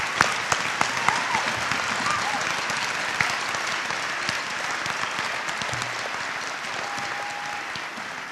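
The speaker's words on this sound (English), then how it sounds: "Please join me in one more round of applause for our veterans." A high school audience at a Veterans Day ceremony gives a round of applause for veterans, dense even clapping that holds steady throughout with a few sharper claps standing out.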